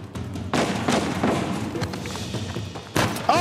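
A grenade blast and gunfire from the video game Uncharted 4: A Thief's End: loud, dense booms and thuds in a steady barrage, with a sharp new burst near the end.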